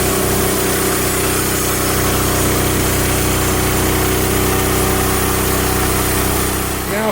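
A Hud-son Patriot sawmill engine runs loud and steady at close range, a constant heavy drone that holds without pause.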